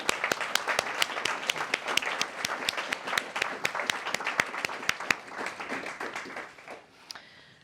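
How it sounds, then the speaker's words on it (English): Applause for the partners at a startup pitching competition award ceremony, with several sharp, evenly spaced individual claps standing out over a softer crowd clapping that gradually tapers off into quiet near the end. "Big applause to our partners."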